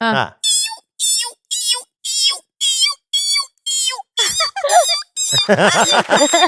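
A voice imitates a cat meowing fast, a rapid series of a dozen short, high, squeaky mews in a steady rhythm, close and loud, run together at the end.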